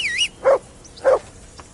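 A dog in the medieval video game Kingdom Come: Deliverance II barks twice, close and loud, with a short whistle-like tone just before.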